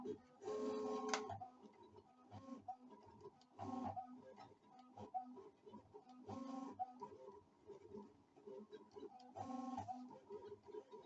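A LOKLiK Impress Auto Tumbler cutting machine runs a job, giving rhythmic mechanical whirring bursts of motor movement with clicking, repeating every few seconds at moderate, fairly quiet level, with no talk.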